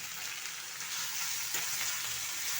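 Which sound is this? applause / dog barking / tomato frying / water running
tomato frying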